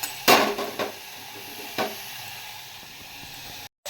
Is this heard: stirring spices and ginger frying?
yes